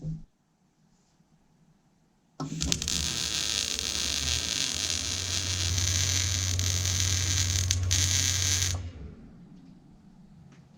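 A Hobart Multi-Handler 200 MIG welder set to 16 volts and 180 wire speed lays a bead: after a quiet start, a loud steady crackling hiss runs for about six seconds, then cuts off.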